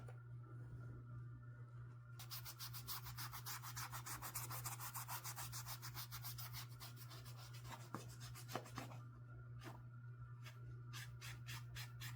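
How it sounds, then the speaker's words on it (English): A sneaker scrubbed with a magic eraser, heard as quiet, fast rhythmic rubbing strokes that run for several seconds, then come in short bursts over a steady low hum. "we'll just place the magic eraser in there like so"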